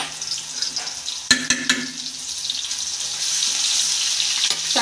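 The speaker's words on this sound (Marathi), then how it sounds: "तेलात चांगलं परतून घेतलं" Chili-cumin thecha paste frying in oil in a pan, a soft continuous sizzle with a couple of sharp spoon knocks early on, and the hiss grows slightly louder toward the end, with no voices.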